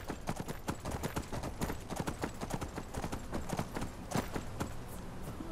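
Horse hooves clip-clop at a steady trot in the video game Skyrim, a continuous run of sharp, close hoofbeats at moderate loudness with no talk over them.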